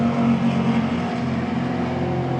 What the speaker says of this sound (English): Loud cars.